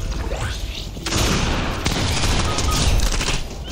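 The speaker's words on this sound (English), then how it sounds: "I'm going in the vent, mainly because I'm being shot." Dense bursts of rapid gunfire and booms in the video game Fortnite, loud and continuous after the first second, with sharp cracks layered over a noisy battle din.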